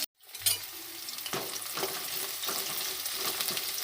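Chili, ginger and onion drop into hot oil for tempering for a Karavali-style fish curry, giving a sharp initial crackle that settles into a steady, close sizzle with occasional stirring scrapes.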